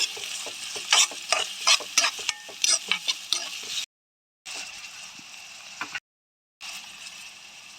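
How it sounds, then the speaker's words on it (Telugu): Onions frying in a pan for a meal maker masala curry hiss and sizzle steadily while a spatula scrapes and stirs in quick repeated strokes, broken by two brief silent gaps. "ఆనియన్స్ మనకి కలర్ చేంజ్ అయ్యేంత వరకు అయితే ఫ్రై చేసేసుకుంటా"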